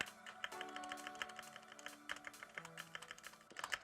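Rapid, light typing on a Cougar Puri Mini RGB mechanical keyboard, keys clacking in a busy rhythm with occasional heavier spacebar strikes carrying a faint rattle from its stabilizer, close and moderately quiet.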